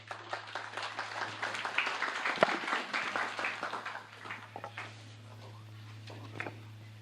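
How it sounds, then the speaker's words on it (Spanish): An audience at a law association seminar in Chimborazo gives a speaker a burst of clapping that builds, then thins out and fades after a few seconds over a constant low electrical hum. "Le brindamos un fuerte aplauso,"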